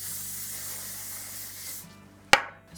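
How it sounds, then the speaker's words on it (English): Hairspray is sprayed onto pinned-up curls in one long, steady hiss close to the mic, which cuts off and is followed by a single sharp tap or click. "And one more spray."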